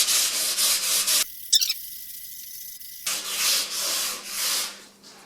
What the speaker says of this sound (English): I'm sanding the wet surface